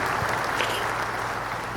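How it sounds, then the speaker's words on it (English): A show audience claps for a returning guest in continuous, dense applause that stays at an even level throughout. "give us a round of applause for Medic"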